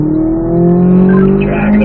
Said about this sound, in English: Brian, let's go back to the left and start accelerating. And then eventually just pick up third gear.